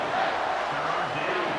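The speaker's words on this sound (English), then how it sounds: "Here comes this home crowd as the defense tries to get off the field on third down." A home stadium crowd roars in EA Sports College Football 25 during a third-down play, a loud, dense, sustained wash of cheering and shouting.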